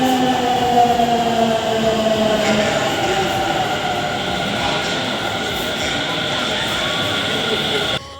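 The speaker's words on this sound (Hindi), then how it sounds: "मैं बैठी हूँ अभी रिंगर्स वाली ट्रेन में" Inside a moving Indian local train, the carriage rumbles steadily with rattling wheels and faint squeals, a constant close mechanical drone with voices chattering in the background throughout.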